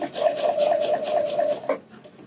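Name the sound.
sewing machine stitching bra elastic seam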